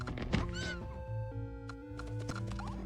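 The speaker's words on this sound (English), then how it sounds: "The fucking squeaky horse death noise." A horse unit dying in the strategy game Necroking gives a squeaky, whinnying cry, heard among layered game music and tonal effects, with several brief sharp hits over a steady low background.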